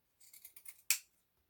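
Scissors snipping fabric trim from the edges of washable wipes, a quick run of small close cuts followed by one sharper, louder final snip, with no talk.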